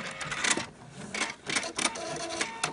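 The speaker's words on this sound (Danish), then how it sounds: "så kan jeg slutte sømmen af på samme måde ved at bruge min tilbage eller min" Sewing machine stitching off the end of a seam on reflective tape, with short bursts of mechanical whirring and a few brief pauses between them, close by and moderately loud with no voices.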